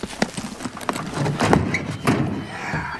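A rope horse's hooves clip-clop at a walk, steady and fairly close, with occasional heavier thuds over outdoor ranch ambience.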